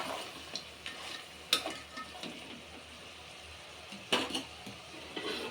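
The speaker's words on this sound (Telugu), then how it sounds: "ఉప్పు, కారం, పసుపు అన్నీ ముక్కకు మంచిగా పట్టేంత వరకు కలపాలా" Goat head meat stirred together with salt, chilli powder and turmeric in a pot, giving soft scraping and stirring noises with a faint background sizzle and a few sharper utensil knocks, fairly quiet and close.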